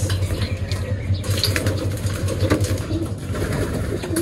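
Racing pigeons coo and flutter at close range during club training, soft repeated cooing over a busy background of scuffling and light clatter, with faint human voices now and then.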